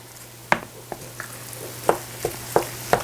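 Very lean beef with no fat frying in a slightly too-small pan, a soft steady sizzle broken by about six sharp scraping clinks as it is stirred, close and clear with no talking.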